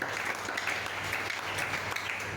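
A church congregation at a Friday worship service claps together in steady, dense applause that fills the room from start to finish.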